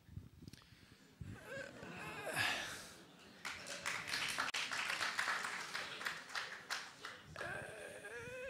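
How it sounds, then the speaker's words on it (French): Audience applause in a hall during a public talk, a patchy burst of clapping that swells and fades in waves, with a brief voice near the start. "si j'en juge par les applaudissements"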